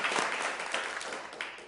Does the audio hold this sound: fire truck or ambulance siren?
no